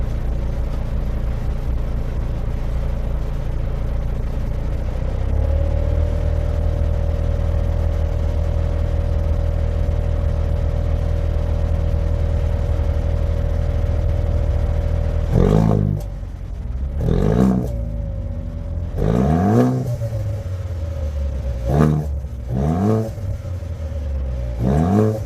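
A 2024 Haval H6 GT idles with a steady low exhaust drone in Sport mode, then gets several sharp throttle blips, each a loud rising rev that falls back to idle.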